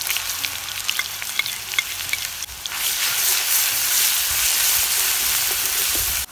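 Mustard seeds, curry leaves and ground green chili-garlic paste fry in oil for kulith pithale, first crackling and popping, then swelling into a dense, steady sizzle as the paste hits the pan.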